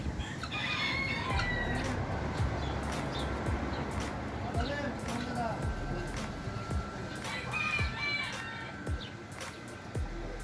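Chickens cluck and chatter in a busy outdoor setting at a holiday resort in İznik, Bursa, with a person talking over the birds throughout.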